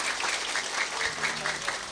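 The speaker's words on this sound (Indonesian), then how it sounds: "Tepuk tangan untuk Pak Bupati." Audience applause for a regent at an Indonesian religious gathering, a steady, dense patter of many hands clapping at moderate distance, filling the room evenly for a couple of seconds.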